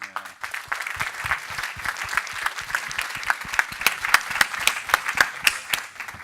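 A conference audience applauds a leadership talk, producing dense, steady hand clapping from many people that swells and carries on for several seconds.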